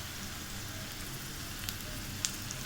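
Chillies and spices sizzle in hot oil for a raw mango pickle tempering, a steady close hiss with a few small pops and no talk.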